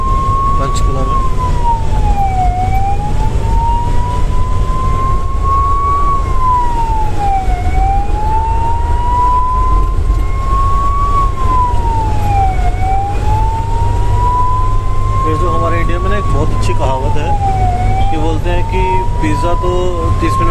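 Ambulance siren heard from inside an ICU ambulance during a critical patient transfer, a loud continuous wailing tone rising and falling in slow cycles for the whole stretch over steady engine and road rumble.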